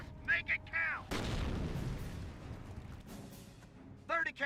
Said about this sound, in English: Mortar now raining on in, which may wipe out the engineers.